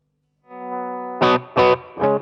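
An electric guitar played straight through the amp with no pedal: one sustained chord ringing out, then three short, punchy stabbed chords, close and fairly loud with no talking.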